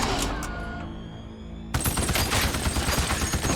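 Gun turrets in the horror film Saw 3D firing a rapid, dense burst of automatic gunfire that cuts in abruptly after a quieter lingering tone and continues loud and sustained.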